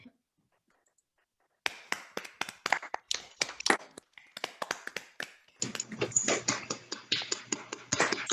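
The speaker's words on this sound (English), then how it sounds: "we can give them a big round of applause." Online audience applause at a virtual musical event, scattered claps from many unmuted phones, uneven and tinny, starting after a silence and building into a denser patter.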